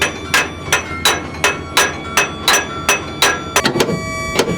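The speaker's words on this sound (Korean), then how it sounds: "갑판 위를 두드려 소리를 내는 것도 마찬가지." Crew banging on the deck of a mackerel purse-seine fishing boat at sea, steady rhythmic knocks about every third of a second, close and ringing, ending with a quicker cluster of hits.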